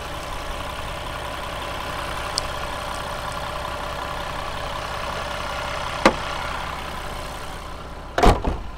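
A 2021 Jeep Gladiator Rubicon diesel engine idles with a steady, even rumble throughout, broken only by a sharp click near the end and a brief knock just after.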